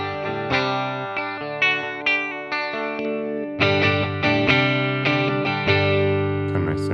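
Electric guitar played through a Mooer Prime P1 amp model in a clean tone setting, a series of picked notes and chords ringing out with sustain, close and clear with no talking.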